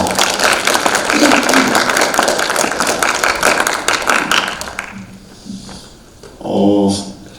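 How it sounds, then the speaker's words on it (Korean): Sustained audience applause at a university talk concert for lawyer Lee Seok-yeon, loud and dense for about five seconds, then thinning out as a voice begins speaking. "다시 한번 소중한 말씀을 해주신 이석연 변호사님께 박수 청해 드리겠습니다"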